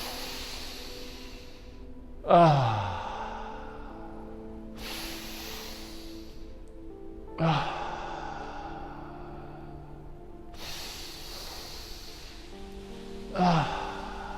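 Breathing exercise with three cycles, each a double sniffed inhale through the nose followed by a long, audible exhaling sigh, close and moderately loud.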